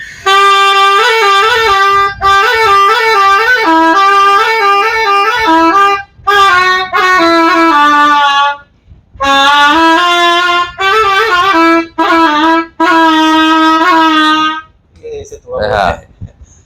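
Shehnai played as a loud, close, reedy melody in bursts of short repeated notes, broken by several brief pauses and trailing into near silence at the end.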